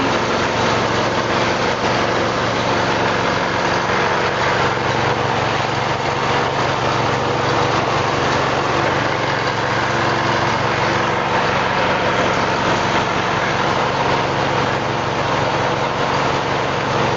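A compost machine shreds organic vegetable waste collected from a market at a landfill site, giving a steady, loud, continuous engine drone with no break.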